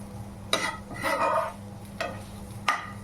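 Paneer bhurji with garam masala being stirred in a pan, a few distinct scraping strokes and clinks of a spoon against metal over a soft background sizzle.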